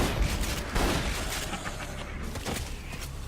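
Gunfire in the Borderlands 2 video game, a dense run of overlapping shots and booms that carries on steadily across the whole stretch at moderate loudness, with no talk over it.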